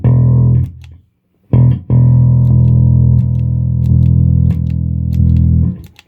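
An electric guitar runs through a Tech 21 Dug Pinnick pedal with its boost engaged, playing loud, sustained distorted notes with a short gap and a quick restrike early on, then a long held tone.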